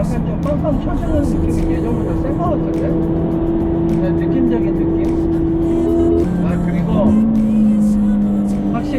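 A Ferrari sports car engine drones steadily from inside the cabin while driving, its pitch shifting with gear changes.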